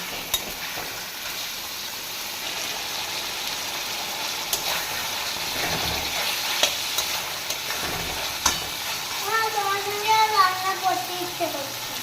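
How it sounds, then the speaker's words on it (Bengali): Chicken sautéing in a pan: a steady close sizzle of frying with occasional stirring scrapes and light clinks, continuous throughout, with faint background voices late on. "চিকেনটাকে এবার ভালো মতো কষিয়ে নেব"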